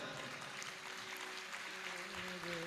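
Audience clapping at a live Jain religious discourse, a steady dense patter of many hands that cuts off abruptly at the end.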